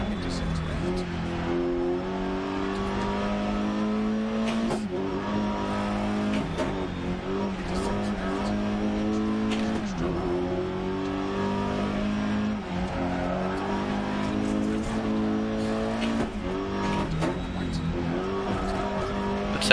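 Rally car engine in DiRT Rally 2.0 revving hard through gear changes, with rising and falling pitch sweeps, sharp shifts and occasional tire skids, loud and close throughout without voices.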